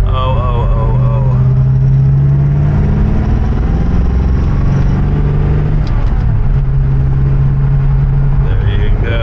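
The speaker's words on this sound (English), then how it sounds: "it funneled the supercharger whine right into the motor. I mean, right into the interior." A 1964 Studebaker-style Daytona R2 Super-Lark hardtop with a supercharger drives steadily, its loud engine drone and whine filling the cabin, with a brief dip in pitch around the middle, likely a gear shift; a voice is faintly mixed in.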